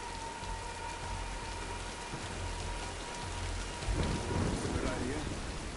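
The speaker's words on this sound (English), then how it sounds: "let's wait out the storm" A storm in the Tomb Raider game: steady hissing rain throughout with a low rumble of thunder rolling in about two-thirds through, loud and enveloping, no speech.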